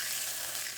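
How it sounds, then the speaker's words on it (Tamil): Mustard seeds crackle and sizzle in hot oil, the start of a crab rasam, as a steady, hissy spitting close to the pan, brief and unbroken, with no talk. "கடுகு ஒடிக்க போட்டுட்டேன்"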